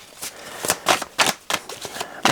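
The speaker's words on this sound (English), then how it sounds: "It's making my shuffling even worse." Tarot cards shuffled by cold hands, giving a series of close, crisp riffling bursts about every half second, with no talk over them.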